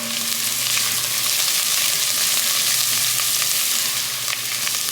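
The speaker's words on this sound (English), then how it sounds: "we'll let the garlic cook for about 30 seconds" Chopped garlic sautés in a pan for a creamy cauliflower soup, giving a steady, close sizzle and crackle of frying that runs evenly throughout without any talking.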